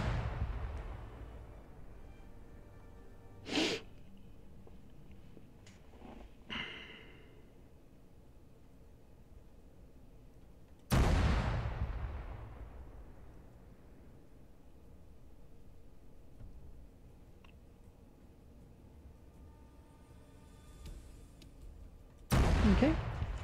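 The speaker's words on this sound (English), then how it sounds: "we're ready to fire. So we're going to fire our three rounds" An artillery gun in the game ArmA 3 fires three rounds, each a sharp blast with a decaying tail, spaced several seconds apart over a quiet background.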